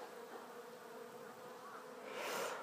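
Japanese honeybees hum steadily beside an open hive while a beekeeper fits a cone onto it. The buzz swells louder near the end, as if a bee has flown close to the microphone.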